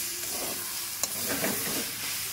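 Spiced food fries in a pot for an Ekadashi bhog offering while being stirred, a close, steady sizzle broken by a few scraping stirs of the spoon against the pot.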